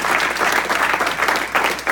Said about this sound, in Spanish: Yo no sé si usted puede darle un aplauso al Señor en esta hora